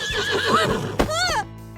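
A horse named Sage gives a loud, close whinny with a falling, wavering pitch, then a second shorter neigh, ending abruptly; no talk.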